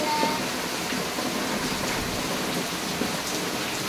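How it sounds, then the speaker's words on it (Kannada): Steady rain falling, a dense close hiss of drops on surfaces with no pauses. "ಮಳೆ ಬರ್ತಿದ್ದಾರೆ"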